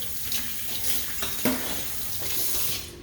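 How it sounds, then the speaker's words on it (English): Kitchen tap water runs steadily over a finger being rinsed at the sink, a close continuous splashing hiss with a few small spatters, then it stops. "Rinse off my finger."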